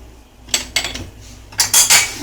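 Spices being mixed in a bowl with a metal utensil: a few close, sharp clinks and scrapes in two short bursts separated by quiet pauses.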